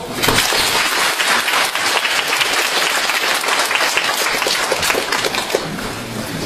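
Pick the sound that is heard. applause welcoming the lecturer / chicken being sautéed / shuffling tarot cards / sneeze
applause welcoming the lecturer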